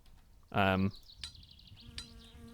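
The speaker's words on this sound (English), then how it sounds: "I'm pretty sure that bloody fly's back already" A fly buzzes in My Summer Car, a faint wavering drone that hovers and drifts across the clip after a short loud burst, with low background noise underneath.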